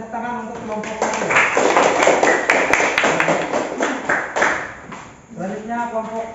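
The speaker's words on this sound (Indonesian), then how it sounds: "boleh tepuk tangan untuk kelompok 1" Classroom applause for student group 1, a burst of many hands clapping for a few seconds amid children's voices, then fading as talk resumes.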